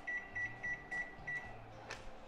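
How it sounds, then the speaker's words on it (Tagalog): A microwave oven heats food with a low steady hum and a few short, repeated beeps, fairly quiet in a kitchen, with no talking. "ilagay na natin itong, guys, itong mamra dito sa may microwave oven"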